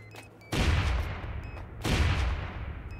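Two long bursts of heavy PKM machine gun fire in a video game shooter, loud and close, each a dense sustained roar, with a brief lull between them.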